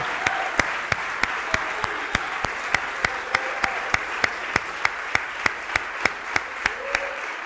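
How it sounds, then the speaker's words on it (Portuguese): Church audience applauding steadily throughout, a dense wash of clapping punctuated by sharp, evenly spaced claps in a regular beat, with no talk over it. "vamos aplaudir essa palavra"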